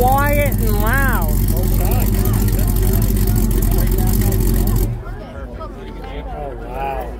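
A car with a loud aftermarket exhaust rumbles deep and steady at an outdoor car show, then cuts off abruptly near the end, with people talking over it throughout.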